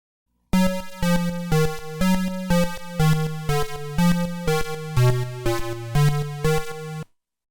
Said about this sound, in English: play the bass frequency I'm working with, then accompany that with a frequency detuned a little upward